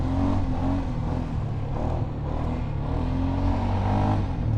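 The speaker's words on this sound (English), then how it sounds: "this Sportsman 570 is powered by a 44 horsepower single-cylinder 4-stroke motor, CVT transmission that you can hear working away" A Polaris Sportsman 570 ATV's 44 horsepower single-cylinder four-stroke engine and CVT transmission drone steadily while riding, a loud continuous low rumble with a whirring belt note and slight swells in throttle.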